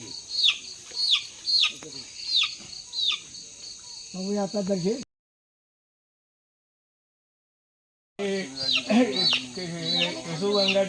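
Chickens at a rural Konkan household cluck in short repeated bursts amid a steady insect-like chirr, with people talking nearby; the sound cuts to silence midway, then resumes with more voices over the birds.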